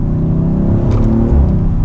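A steady, low engine drone from an Audi sports sedan with a stock exhaust, heard from inside or close by as a constant hum without sharp revving peaks.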